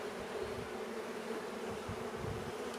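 Italian-type honeybees from a September-born swarm drone steadily on a hive frame during inspection, a close, continuous buzzing hum with no voices.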